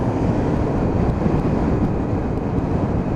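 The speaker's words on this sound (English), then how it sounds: "Now the wind conditions are not that bad." Steady wind roar buffets the microphone while riding a Lexmoto Cypher motorcycle at speed, a loud, broadband rush with no talking.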